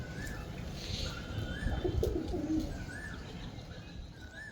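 Pigeons on a rooftop coo in soft, repeated throaty rolls, several calls spaced across the moment, close and moderately loud over faint background hum and a few small chirps.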